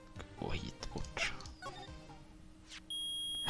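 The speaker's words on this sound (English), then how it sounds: "It's beeping! The metal detectors found something! Sure is loud enough about it." A metal detector in the Ace Attorney video game gives off a steady, loud electronic beep tone that starts near the end. Before it, people talk and there are brief noises.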